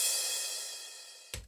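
A crash cymbal sample in music production sustains as a bright, slowly decaying wash, then a short new hit starts just before it ends; no talking.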